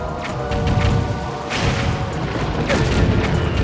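Booming cannon fire and crashing impacts during a ship battle in The Legend of Zelda: The Wind Waker HD, loud and continuous with heavy rumbling blasts, swelling around the middle and again near the end.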